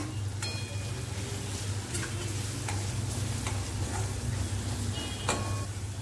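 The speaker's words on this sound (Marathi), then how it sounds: "पाच मिनिटं चांगला आपण परतून घेतलाय" Spices with turmeric and mixed masala sauté in a pan, giving a steady close sizzle and frying crackle with a few sharp ticks of a spoon against the metal throughout.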